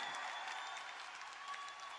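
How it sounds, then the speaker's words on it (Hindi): Audience applause at a live corporate event, a steady dense wash of many hands clapping that holds at an even level for the full two seconds with no voices over it. "अरे इस पे तो खड़े होके ताली होनी चाहिए यार"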